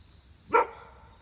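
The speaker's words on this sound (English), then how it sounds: "See? She's barking." A single sharp dog bark, close and fairly loud, standing out briefly against a quiet background.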